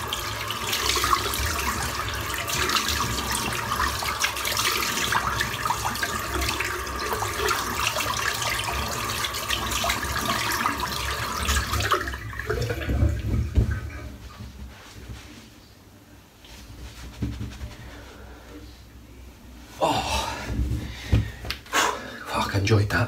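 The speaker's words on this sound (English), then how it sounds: "let's just get my head rinsed off." Water runs steadily while rinsing a freshly shaved head, a continuous splashing flow that cuts off midway, followed by quieter handling and further bursts of splashing.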